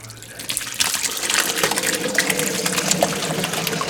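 Hot crab apple mash is poured into a pillowcase-covered plastic mesh sieve over a pot, giving a steady wet splashing and gurgling pour that runs several seconds, close and fairly loud, with a voice faintly underneath.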